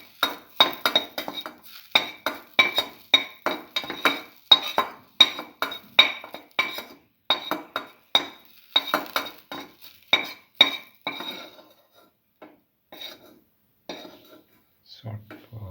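Metal utensils clink and scrape rapidly against a pan as dried berries go in with pigeon peas and rice, a dense run of close, sharp knocks that thins out and stops near the end.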